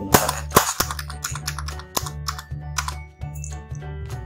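Keys clicking on a computer keyboard, including presses of the Enter key, come as a series of sharp, close taps at an irregular pace over a steady low hum, with no talking.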